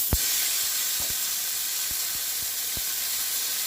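Oxtail searing in a regular cooking pot gives a steady hiss and sizzle of steam and hot fat, with a few soft taps and knocks scattered through the sound and no voices.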